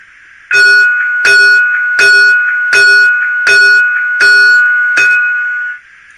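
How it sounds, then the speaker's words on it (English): A loud model train locomotive bell sound effect rings about seven times at an even pace, clear and close, with no talking. "That's obviously the bell"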